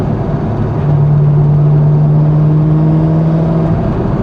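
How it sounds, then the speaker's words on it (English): A loud, steady engine and exhaust roar from a 2000 C5 Corvette FRC accelerating, with a sustained low hum, running continuously close by without speech. "Exhaust sounds great on this."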